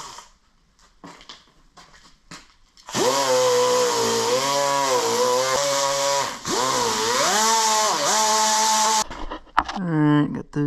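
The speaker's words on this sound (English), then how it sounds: "I'm gonna clean these out with a little sandpaper." Sanding rust from the driveshaft clip holes on a 1983 GMC K2500 pickup: a loud, sustained motor whine with a shifting pitch for about six seconds, close up, framed by brief scraping sounds before and after.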